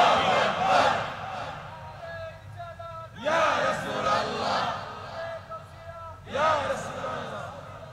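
A large crowd at a packed religious gathering roars the takbir chant in unison, two or three loud collective bursts a few seconds apart, with a voice leading between them.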